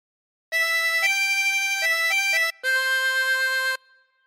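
Amazing Grace on a 24-hole tremolo harmonica: clear sustained reedy notes with a shimmering, wavering tone, moving through a short phrase with brief breaks between some notes, played alone and close.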